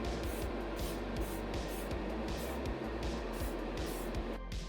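Clear lacquer is sprayed from an aerosol can onto a Hot Wheels Mazda MX-5 model car, a faint, steady hiss with rapid repeated pulses, continuing throughout.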